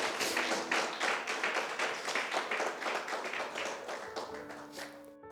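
A church congregation claps in a quick, roughly unison rhythm, each beat distinct and fairly close, fading out as a few sustained organ-like tones come in at the end.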